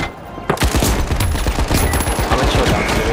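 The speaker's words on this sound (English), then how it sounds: "Oh my god, they're shooting at us." Dense, rapid automatic gunfire from the first-person shooter The Finals, with close bursts of shots overlapping in a steady rattle after a brief quieter start.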